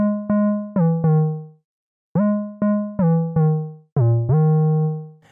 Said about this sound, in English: I've just got this 808 preset up and I've actually turned it up a couple octaves